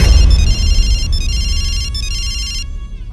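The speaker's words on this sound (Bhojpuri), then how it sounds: "फोन उठाओ" A telephone rings with a loud, close electronic ringtone in repeated bursts of bright trilling tones, heard alone without voices over a low rumble.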